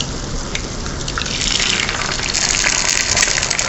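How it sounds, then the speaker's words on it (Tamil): Cooking oil pours into a small pan while garlic chilli Maggi noodles are being prepared, a close, fairly loud continuous liquid gush with drippy splatter that swells slightly toward the end. No one speaks. "நம்ம ஒரு சின்ன பேனில் கொஞ்சமாக ஆயில் விட்டுக்கலாம்."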